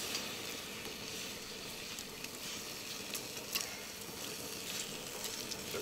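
Candy bacon strips sizzling on a barbecue, a steady crackling frying hiss with small pops, faint and continuous, no talking.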